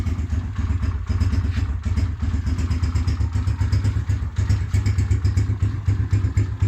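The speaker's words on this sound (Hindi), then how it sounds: "पहले किक का स्टार्ट है" A United 125 motorcycle, first kick-started on a cold morning without choke, runs at a steady idle with a loud, rhythmic low thumping exhaust and some mechanical clatter throughout.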